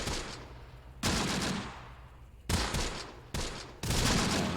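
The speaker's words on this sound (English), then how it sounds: "I think that was from rifle fire" Rifle fire in the war game Close Combat: The Bloody First, a loud close volley of gunshots in bursts, each sharp crack trailing off into a long rumbling decay, with four or five distinct salvos.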